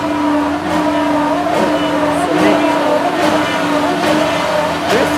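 A loud car passes along a busy Tokyo street, its engine a steady throaty drone with a swelling rumble, heard up close amid ongoing traffic noise outdoors.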